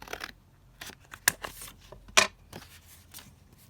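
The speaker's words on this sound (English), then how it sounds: "Just trim these down here." Scissors trim paper strips for a junk journal in several close, crisp snips spaced unevenly, two of them sharper and louder, with no talk.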